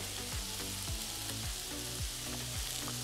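Olive oil sizzles over endives on a brazier-style plancha: a steady, close, broadband crackle and hiss, with low clanking and scraping as the food is handled. Nobody speaks.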